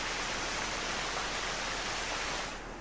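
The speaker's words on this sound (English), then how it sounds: "I hear a waterfall." A steady broadband rush of falling water from a waterfall in the video game Kingdom Hearts, continuous and fairly loud with no talk, easing slightly at the very end.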